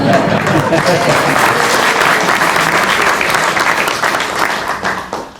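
Audience at a township council meeting breaks into loud, sustained applause that fills the room, thinning slightly toward the end, with some voices mixed into the clapping.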